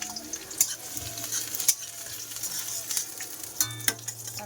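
River crabs fry in a pan, a steady broad sizzle with stirring clatter and a few sharp utensil knocks against the metal, close and moderately loud, no voices.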